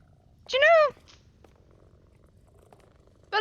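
Cat in Powerwash Simulator 2 gives a short, close, bright chirping trill followed by quiet background and a brief second call at the end.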